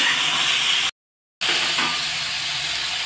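Pumpkin, green chili and beans frying in a pan over a medium gas flame, a steady loud sizzling hiss broken by a short silent gap.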